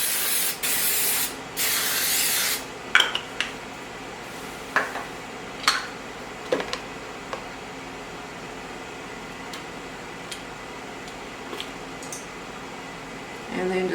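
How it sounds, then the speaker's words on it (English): Baker's Joy baking spray is sprayed onto a muffin tin in a home kitchen, two hissing bursts up close, followed by light clicks and clatter of the can and tin. "And I'm going to spray my tin with the Baker's Joy spray."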